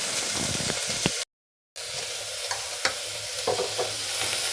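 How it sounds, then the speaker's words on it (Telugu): Beans, carrot, green chilies and onions stir-fried in a pan, with a steady close sizzle and scraping spoon strokes, a brief silent gap, then more sizzling and stirring. "ఒక 2 నిమిషాలు ఇలానే ఫ్రై కానిద్దాము."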